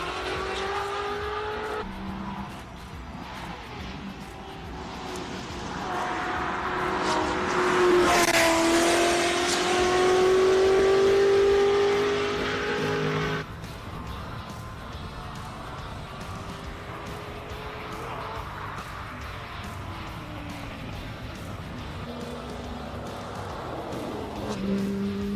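A 1969 Lola race car with a 6.2-litre engine climbs a hill course, its engine roaring and revving through the gears, swelling loud as it nears and passes, then fading back to a steady distant drone.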